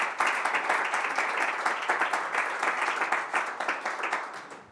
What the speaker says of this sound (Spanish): muchísimas gracias y un aplauso